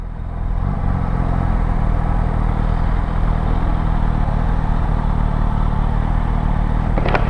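Suzuki Katana motorcycle engine rumbling loudly and continuously close by as it passes, a steady dense drone with no talking.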